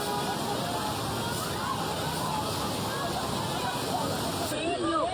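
Floodwater rushes and sloshes through a partly destroyed screening shelter for Venezuelan migrants, a steady loud roar of churning water with faint shouting and voices mixed underneath.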